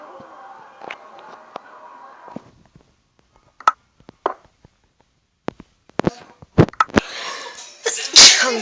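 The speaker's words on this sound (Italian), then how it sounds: "Sta sempre venendo sto starnuto." A person sneezes repeatedly, with a held breath and scattered sharp sneezes that grow louder and denser toward the end, close and alone.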